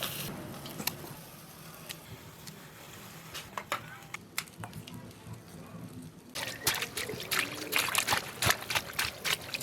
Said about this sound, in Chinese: 现在把黄好叶的根绞了，洗净洗一下